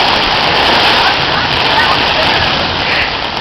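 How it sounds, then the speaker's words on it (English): Steady heavy rain and rushing runoff water during a thunderstorm on Memorial Day, a loud dense wash of noise filling the whole stretch without pause. "Just a little thunderstorm."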